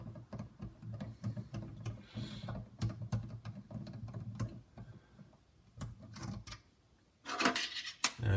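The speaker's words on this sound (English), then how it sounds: "So you can just go ahead and unscrew all 3 of them." Screws being turned out of a kitchen sink valve assembly, with close, quiet scraping and rattling of metal, intermittent clicks, and a louder clatter near the end.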